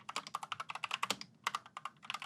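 Fast typing on an optical-switch keyboard with stabilized keys, a quiet, steady patter of crisp key clicks in quick bursts with a brief pause in the middle.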